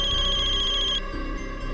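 An electronic ringtone trills in a rapid repeating pattern, then cuts off after about a second, leaving a low hum.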